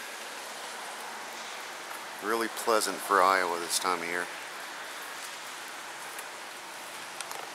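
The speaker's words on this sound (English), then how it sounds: "rain" Steady rain falls outdoors on an overcast December day in Des Moines, Iowa, a soft even hiss running throughout while someone speaks briefly over it midway.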